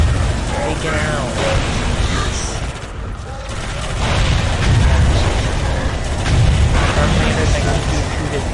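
A Helldrake is shot down amid a constant roar of battle, with dense gunfire and rumbling booms swelling and easing throughout, while a voice speaks over the noise.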